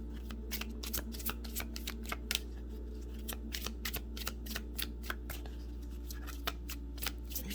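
Tarot cards are shuffled in a steady series of crisp, close riffling snaps and slaps, evenly spaced over a constant low hum, with no voices.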